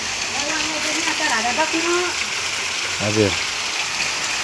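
Steady water pouring from seven stone spouts at Chitlang, a constant close rushing splash with a person speaking briefly over it.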